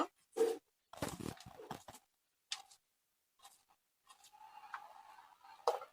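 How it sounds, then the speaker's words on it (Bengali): A knife cuts onions in quiet, irregular strokes, with a few sharp crisp cuts separated by silent pauses and a longer soft scraping pass near the end. "তো এখন আমি সবগুলো পেঁয়াজ কেটে নিব।"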